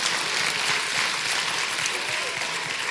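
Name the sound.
church congregation praise clap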